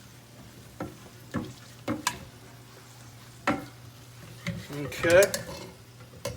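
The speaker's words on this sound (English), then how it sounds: "I'm just going to kind of mix this together." A spoon stirs and scrapes chicken and feta together in a bowl for Mediterranean chicken, giving several sharp irregular clacks and a busier scraping run near the end, with a brief spoken word.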